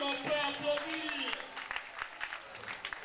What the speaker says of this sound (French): Chers amis, est-ce qu'on peut applaudir?